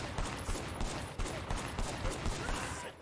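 Gunfire in the video game Sleeping Dogs crackles in a quick, uneven string of shots at moderate level, dense and continuous across three seconds.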